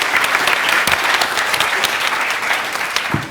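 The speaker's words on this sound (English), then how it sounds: "please give her hands of applause" Clapping from an audience at a youth gathering welcomes Lucia Kamati to the stage, a dense continuous round of applause at steady loudness with no speech over it.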